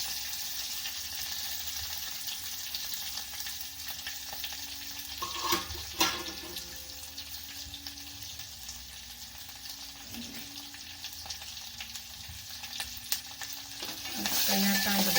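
Onions, garlic and curry leaves sizzling steadily in a pan while being stirred, a soft continuous frying hiss broken by a few scraping clacks of the spoon, with no voices.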